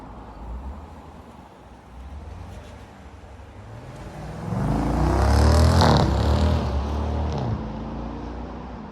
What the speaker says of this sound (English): when you put the pedal down, you hear that V8 just waking up